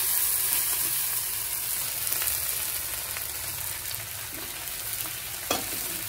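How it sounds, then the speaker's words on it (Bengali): Leftover rice being stirred and fried in a wok, with continuous sizzling and scraping of the spatula against the pan, a few sharper clinks standing out, no talk. "চলো আর একটু নাড়াচাড়া করি"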